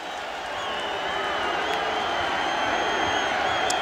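A stadium crowd roars steadily at a college football game between Florida and Ole Miss, building within the first second into a loud, continuous wash of cheering.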